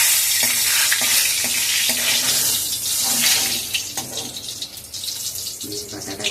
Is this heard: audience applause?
no